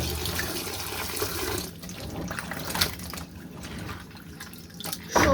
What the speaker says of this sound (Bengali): সবজিগুলোকে 2 থেকে 3 বার আম্মু ভালো করে ধুয়ে নিচ্ছে।